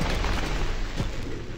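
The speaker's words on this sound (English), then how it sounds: "Walk away from explosion." Explosion in the VR video game Blade and Sorcery, a loud, full-bodied blast with deep rumbling low end and a sustained roaring tail filling the entire moment.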